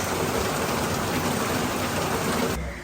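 Heavy rain pours steadily and loudly in the Philippine countryside, a dense continuous hiss that cuts off abruptly near the end.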